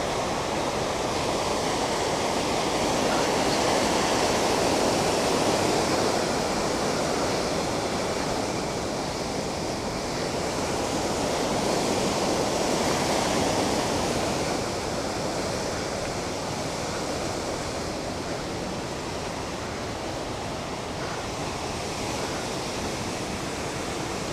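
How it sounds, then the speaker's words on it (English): A strong river current rushes past in flood, a steady loud broadband roar of churning water that holds nearly constant throughout with slight swells, with no voices. "The mighty current river"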